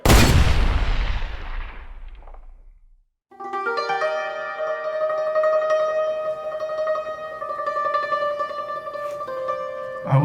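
A regiment of soldiers in three files of 250 men fires a volley in a stage production: one loud, broad blast that rolls and decays over about three seconds, followed by sustained musical tones.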